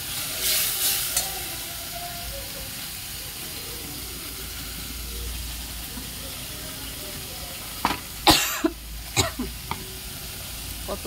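Masala fries in a pan for a kabuli chickpea ghugni, a steady soft sizzle with several sharp clanks and scrapes of stirring toward the end, and no talking.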